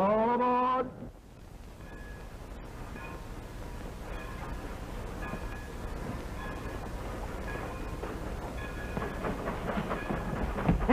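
A train pulls out of a 1930 railway station after the all-aboard call, steady rolling rumble with repeated rail clacks and a faint whistle-like tone, loudness building toward the end.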